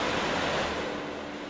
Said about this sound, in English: Oh, the water level rises.